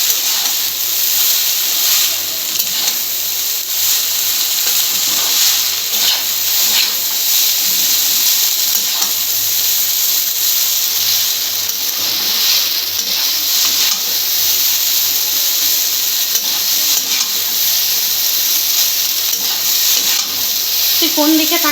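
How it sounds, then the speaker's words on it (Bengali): Egg chow mein being stirred in a hot pan, with a steady sizzling hiss running throughout and occasional scraping stirs, heard close up under intermittent background voices. "আর ভালো করে এবার আমি নাড়াচাড়া করে নেব"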